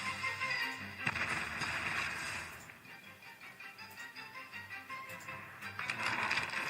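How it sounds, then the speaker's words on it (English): Explosions going off across a video game's amusement park level, near a Ferris wheel and bungalow, heard as a fairly quiet stretch of repeated crackling bursts and rumbles that rise, dip in the middle, then swell again. "There are explosions going off at the Brawlin' Bungalow, the Ferris wheel, and all sorts of other places."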